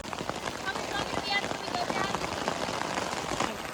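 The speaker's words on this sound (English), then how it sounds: "It's raining. We're ready for rain." Steady rain patters on a campsite in a national forest, a dense, even hiss of drops on surfaces continuing throughout, with faint talk mixed underneath.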